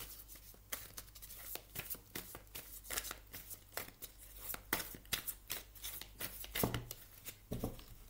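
Tarot cards are shuffled close up in a quick, repeated riffling rhythm of soft papery slaps and flutters, quiet and steady throughout, with no voice over it.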